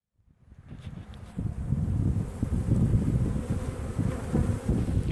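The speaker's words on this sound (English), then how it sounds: "There's a lot of bees in there." A dense, low buzzing of a football-sized honey bee swarm swells in after a moment of quiet and holds steady and close, a continuous droning hum with no voices.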